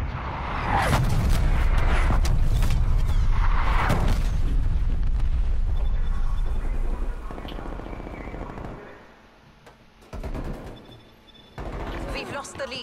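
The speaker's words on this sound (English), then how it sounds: "Artillery inbound." An artillery strike in Black Ops Cold War lands as a string of heavy, rumbling explosions over the first seven seconds, loud and close. Game sounds and gunfire carry on more quietly afterwards.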